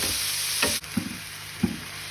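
Meat, potatoes, onions and carrots sizzle steadily in a frying pan, a close continuous hiss broken by a few scraping stirs of a utensil.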